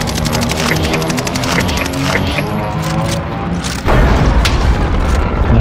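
Bombing explosions in Call of Duty: Warzone: a loud, continuous rumbling barrage with rapid rhythmic pulses and mechanical clatter, then a heavier boom about two-thirds through that keeps the roar going.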